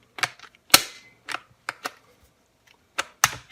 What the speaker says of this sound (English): It has little detents, as you can hear, and it'll lock anywhere.